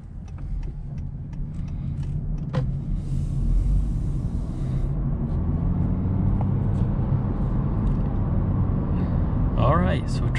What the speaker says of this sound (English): driving this 2022 Honda Insight, it drives nice and smooth